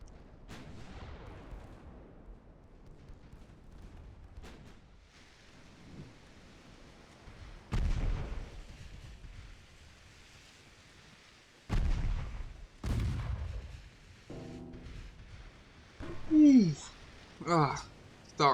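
Heavy naval guns fire in Ultimate Admiral Dreadnoughts, several deep booming blasts spaced seconds apart with rumbling tails over quiet ambience, while someone talks between the shots.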